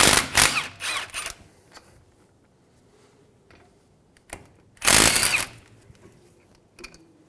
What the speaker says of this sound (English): Using a 12mm socket, remove the caliper bolts.